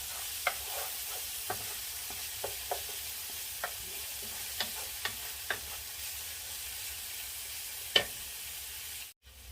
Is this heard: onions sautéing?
yes